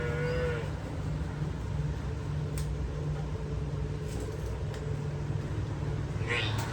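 A young buffalo calf on a farm moos near the start and again at the end, over a constant background hum of farmyard noise.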